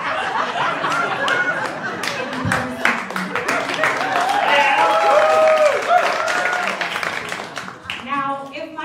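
Audience at a comedy show applauds and laughs, a crowd of clapping and chuckles swelling through the middle and tapering off, with a voice speaking over it near the start and end.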